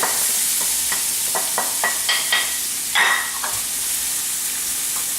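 Diced sweet onions frying in extra virgin olive oil over medium-high heat, a steady close sizzle with a few light stirring clicks and scrapes, no talking.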